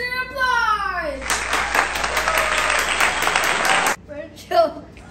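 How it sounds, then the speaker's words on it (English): Burst of applause from a small group in a family setting, a few seconds of dense clapping right after a child tells a joke, with children's voices just before and after. "Everybody give Mariah the jokester applause!"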